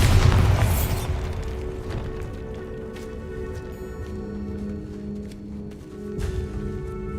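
A deep magical blast from the Bombarda spell in a Harry Potter wizarding video game, one heavy boom at the start that decays into a lingering rumble, followed by sustained tonal hum and faint ambient effects.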